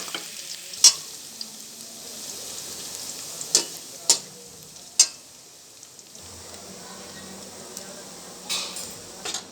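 Garlic fries in two spoons of oil in a pan while a spoon stirs it, giving a soft, steady sizzle broken by a few sharp clicks of the spoon against the metal.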